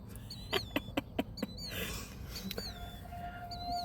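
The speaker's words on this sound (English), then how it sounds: "Do you hear that really loud bird?" Loud bird calling outdoors, a series of sharp repeated chirps and whistles in quick succession, then a high thin tone that holds, over a steady background hiss with no talking.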